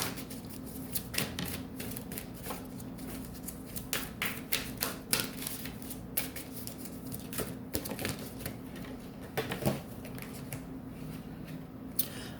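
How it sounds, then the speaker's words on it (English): Tarot cards being shuffled by hand, with quick irregular papery flicks and riffles repeating across the whole stretch, close and fairly soft, with no talking. "So, we shuffle a little bit more."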